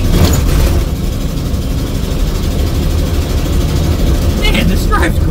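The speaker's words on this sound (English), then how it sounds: "I don't know what horsepower or torque this 351 makes, but it's got plenty of low-end torque to just scoot around" A 1973 Ford Bronco Ranger's 351 V8 rumbles steadily and loudly while driving, a continuous low engine drone with brief faint clicks near the end.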